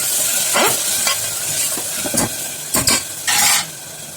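Mutton masala with yogurt sizzles loudly in a pan while a spoon stirs and scrapes it, with steady frying hiss and several distinct scraping strokes close up.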